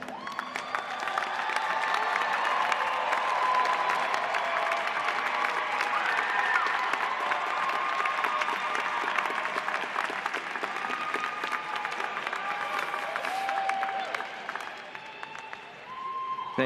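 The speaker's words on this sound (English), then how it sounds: "salute them with your applause." Sustained applause from a large audience at a university fall commencement ceremony, a dense steady clatter of clapping that holds for the full length with a few scattered cheers mixed in.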